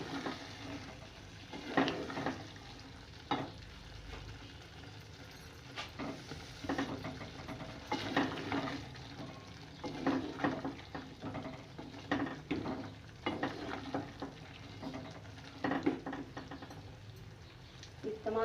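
A spoon stirs ground spices, fennel, coriander and garam masala, through a hot cooking pan for chole, giving soft, irregular scraping strokes over a faint sizzle, close and fairly quiet, with no talking.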